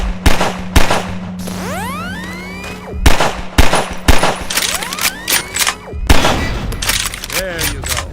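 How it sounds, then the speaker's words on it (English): Gunfire from a firearm aimed at a device on a Strider in a video game, sharp loud shots in separate bursts mixed with rising and falling whistling sweeps of synthetic sound. "take out the firearm of your choice and shoot the device"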